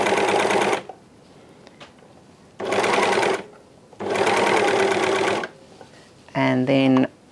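Sewing machine stitching trim onto a T-shirt neckline, running in three loud, steady bursts separated by quiet pauses, followed by a short spoken phrase at the end.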